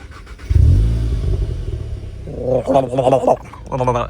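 A Volkswagen Golf 7 engine cranks and starts, a low loud rumble settling into idle, followed by chiming and beeping tones from the dashboard.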